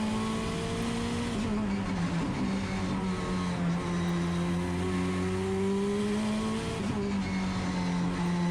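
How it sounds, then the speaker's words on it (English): A 1,000-horsepower rear-wheel-drive race car holds full throttle at Sydney Motorsport Park, its engine a loud, sustained roar with steady harmonic pitch that dips and climbs slightly through the corner, close and continuous throughout. "It's incredible seeing these cars go through there without lifting off the throttle, isn't it?"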